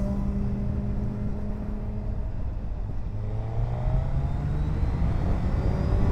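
A 2022-or-later Suzuki Hayabusa motorcycle pulls hard under throttle, its engine note rising steadily over about six seconds with a strong, continuous drone and wind rush, loud and close from the rider's position.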